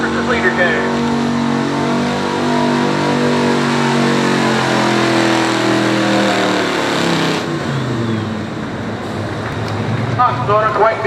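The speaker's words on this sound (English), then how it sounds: "Here comes that Ford, driven by Gary Alloway out of Waterford, Ohio" A Ford pulling truck at a Southeastern Ohio truck and tractor pull in Caldwell, Ohio revs hard and loud, its engine roaring steadily for several seconds before dropping off, with an announcer talking over it.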